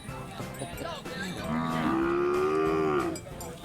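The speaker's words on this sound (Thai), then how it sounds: "ส่วนมากอาจจะเป็นวัวพื้นเมืองครับ" Native Thai cattle at an open-air cattle market, one of them giving a single drawn-out moo that rises and holds for a few seconds, clear and fairly close above a quiet market background.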